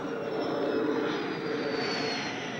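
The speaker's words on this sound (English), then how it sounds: "A Yakovlev's aerobatic airplane is in the air." A Yakovlev aerobatic jet airplane flies overhead, its engine producing a loud, continuous broadband roar with a whining tone that holds steady throughout.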